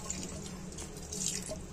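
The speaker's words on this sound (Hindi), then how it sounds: "add water as you like," Water is poured into chicken curry in a clay pot (handi chicken) as it finishes cooking, a steady close splashing and trickling that runs continuously throughout.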